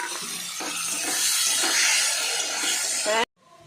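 Potatoes sizzle in hot oil in a home kitchen, a loud, dense hiss that holds steady for about three seconds and then cuts off abruptly.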